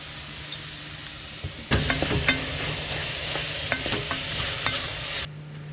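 Onions and garlic cooking in a pot with vegetable broth, a steady sizzle that swells suddenly as something is added, then continues under repeated clinks and scrapes of a stirring utensil.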